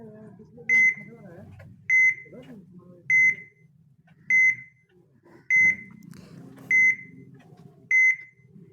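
A voice imitates the steady beeping of an electrocardiograph heart monitor with seven evenly spaced, clear beeps over a low murmur of background talk.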